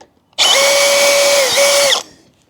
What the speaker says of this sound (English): Just make a little pilot hole.